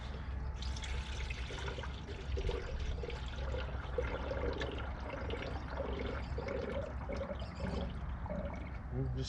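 Coolant pouring steadily through a funnel into the radiator of a 1970 Chevrolet C10 pickup, a continuous close liquid gurgle and trickle lasting throughout with no speech.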